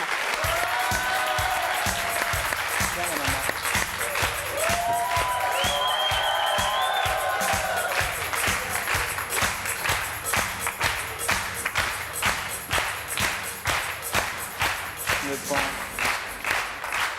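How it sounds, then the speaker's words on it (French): Studio audience on a French TV talk show applauds a guest as she comes on, sustained dense clapping throughout, with brief cheers and a voice over the noise early on. "Je vous demande de l'applaudir très chaleureusement."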